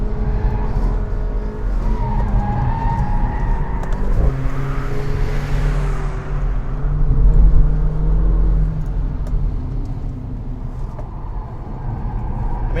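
A 355bhp Mercedes A45 AMG driven flat out on a track, its engine note rising and falling steadily through gear changes at close range, with brief tyre noise and no talk.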